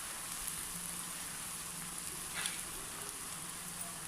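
Bottle gourd vadas (sorakaya garelu) frying in hot oil, a steady soft hiss and crackle of sizzling that stays even throughout, with a brief louder spurt midway and no talking.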